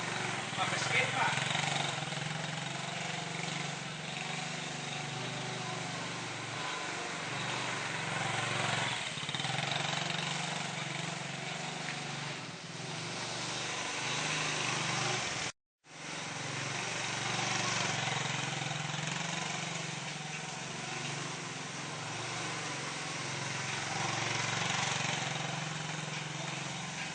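A motorbike engine runs steadily to power rice processing on a farm, a continuous mid-pitched drone that drops out briefly partway through before resuming, with voices talking faintly at times.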